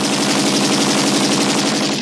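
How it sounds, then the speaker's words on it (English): Rapid automatic gunfire rattles in a dense, unbroken burst, loud and continuous, with many rounds fired in quick succession. "Gunshots."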